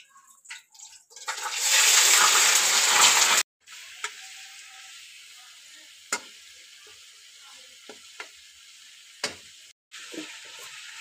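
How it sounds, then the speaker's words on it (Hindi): Chicken pieces dropped into hot oil with browned onions give a loud, dense sizzle for a couple of seconds, then settle into a steady, quieter frying hiss with a few sharp clinks and pops. "और अब जो है वो चिकन, हम चिकन बीच में डाल रहे हैं।"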